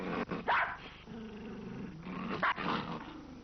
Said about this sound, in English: Growling is one means of warning,